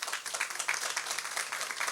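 Audience applause for a maestro at a panel discussion on Villa-Lobos, a steady, moderately faint wash of many hands clapping together with no break.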